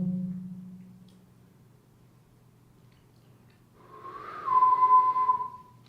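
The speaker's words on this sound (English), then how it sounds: "Is this where the whistling was coming from?" After a quiet stretch, a single clear whistled note swells in, wavers briefly, then holds steady before fading, moderately close.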